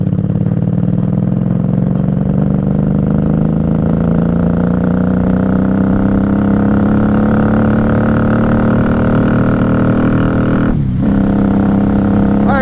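A 1994 Honda Magna VF750C motorcycle engine runs steadily and loud throughout while riding, its pitch climbing gradually as it accelerates, with a brief dip near the end as the clutch shifts before the engine pulls again.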